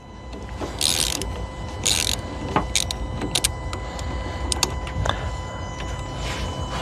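A wrench works a battery terminal nut loose on a vehicle: a series of sharp metallic clicks and ratcheting clanks, with short clusters of rattling, close up and without speech.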